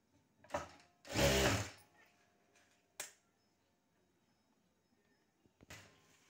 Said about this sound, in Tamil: இதில் தான் நம்ம இப்போ தையல் போட போகிறோம்.